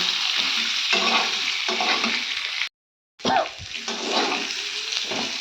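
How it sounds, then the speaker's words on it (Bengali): Boiled potatoes fry in spiced oil in a home kitchen pan. A steady, close sizzle with stirring scrapes is broken by one short silence and then carries on. No one speaks. "তো এই দেখুন আলুটা ভেজে নিচ্ছি।"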